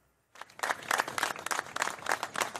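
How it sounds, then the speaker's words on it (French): Customers clap for supermarket staff in Trèbes, France, as the store reopens, a moderate burst of applause starting suddenly and continuing with uneven, lively claps. "Des applaudissements comme pour leur donner du courage."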